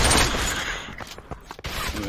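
Gunfire in a shooting video game, a rapid burst of loud shots followed by a few scattered thuds and pops over about two seconds.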